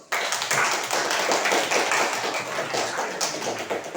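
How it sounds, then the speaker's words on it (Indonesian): A classroom of students applauds after a group presents its poster project, a sustained, busy patter of clapping that starts abruptly and carries on evenly, close and fairly loud. "tepuk tangan dulu"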